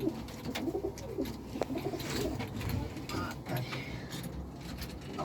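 Pigeons in a Kocaeli loft for flying game birds coo and flutter at close range, with soft steady calls and rustling running throughout over a low background murmur.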